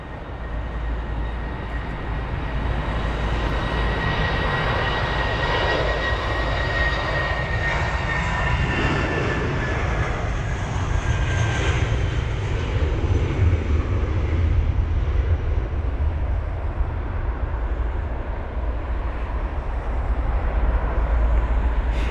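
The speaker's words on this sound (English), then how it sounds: "got the ATR 72-600 on the runway now" An ATR 72-600 turboprop rolls on the runway at Heathrow, its engines producing a loud, steady drone with tonal whine that swells slightly midway and persists throughout, with no talk.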